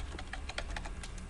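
Typing on a computer keyboard, a quick irregular run of light key clicks at close range, fairly quiet and with no voices.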